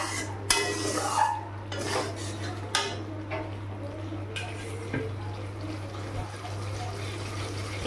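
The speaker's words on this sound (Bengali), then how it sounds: "এবার এখানে আমি বেগুনগুলো দিয়ে দেবো, বেগুনগুলো দিয়ে একটু নাড়াচাড়া করে তারপরে জল দিয়ে দেবো" Eggplant pieces stirred into spiced masala in a pan, with a few sharp metal clinks of the spoon against the pan, then soft scraping and stirring over a low steady hum.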